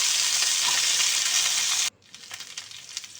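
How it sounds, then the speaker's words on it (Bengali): Okra frying in mustard oil in a hot wok gives a loud, steady sizzle that cuts off abruptly, leaving quieter intermittent crackles. "এতে দিয়ে দিলাম সরষের তেল। আমি এই রান্নাটা সরষের তেলেই করব। দিয়ে আমি ঢ্যাঁড়সগুলোকে ভেজে নেব।"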